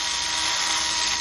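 A high-pitched power drill boring into hard pressure-treated wood whines steadily and loudly, a continuous grinding buzz with no pauses.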